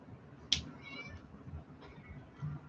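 A single short, bright cat meow sounds near the start, followed by a fainter drawn-out mewing call, over a low rumbling background hum.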